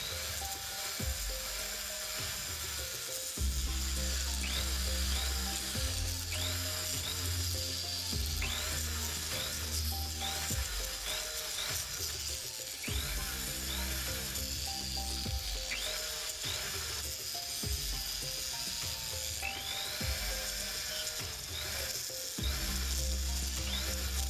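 A buffing motor runs steadily while rouge compound polishes two patterned scrap gold rings, the whine broken by repeated pressing and scraping bursts as each ring is worked against the wheel.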